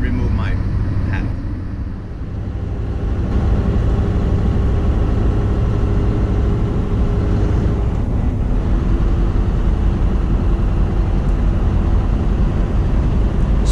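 Scania R500 truck with a V8 engine, a continuous low rumbling idle heard from inside the cab, steady and loud with a voice talking over it.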